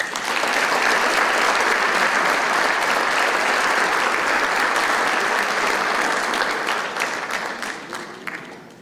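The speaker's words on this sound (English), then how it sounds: "please give a nice round of applause" A banquet-hall audience at a sports awards night gives a long, dense round of applause, loud and steady for several seconds before gradually thinning out and fading.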